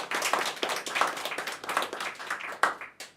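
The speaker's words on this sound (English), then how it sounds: "Round of applause for them." Applause for sponsors at a tech conference summit, a fairly small audience clapping in a loose, uneven patter that sounds close, with no talking over it.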